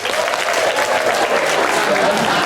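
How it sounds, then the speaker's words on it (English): An audience applauds, a steady dense patter of many hands clapping throughout, moderately loud and unbroken. "That's like the 12th time I've heard that much applause today."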